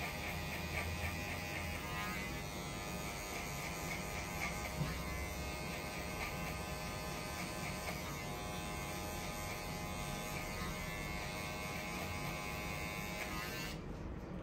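An electric hair clipper buzzes steadily and close while cutting hair for a mid fade, a constant motor hum that holds throughout and cuts off near the end, with no talk.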